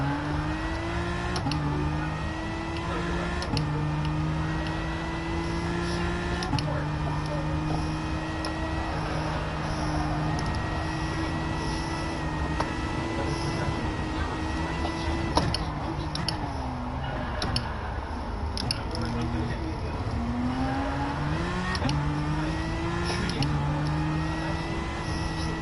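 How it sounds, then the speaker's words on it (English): Racing video game car with a noisy engine droning loudly and steadily throughout, pitch shifting up and down with gear changes, faint background sounds beneath. "It's a noisy ass engine."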